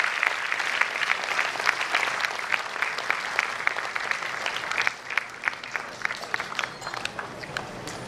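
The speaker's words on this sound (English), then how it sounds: "please clap and welcome" Parents in a school auditorium clap to welcome the principal at a pre-primary annual programme, a dense, steady round of applause with sharp individual claps throughout, easing slightly past the midpoint.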